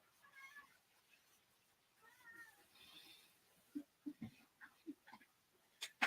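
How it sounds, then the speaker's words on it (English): A house cat meows several times, with short, fairly quiet calls coming in a loose series. Voices talk softly at first. "Your damn cat."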